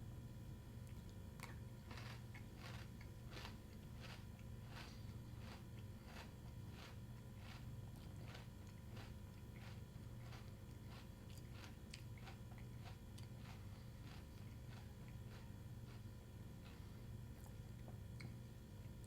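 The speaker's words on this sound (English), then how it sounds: "A lot of chewing and crunching." Faint, close crunching and chewing of All-Bran Buds cereal, with irregular crisp bites repeating steadily through the whole stretch, no talking.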